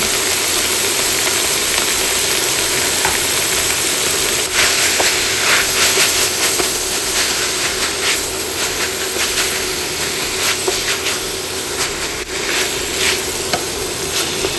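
Peas, carrots and drained canned corn sizzle steadily in a hot pan, a loud, continuous frying hiss with faint stirring scrapes throughout.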